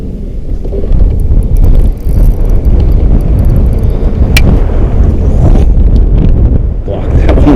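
Wind buffets the microphone on a fishing boat out after white bass, a steady low roar running loud and continuous almost the whole way, easing briefly near the two-second mark and again at the end.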